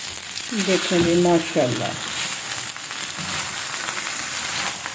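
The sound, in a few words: chicken paratha frying on a pan, flipped to other side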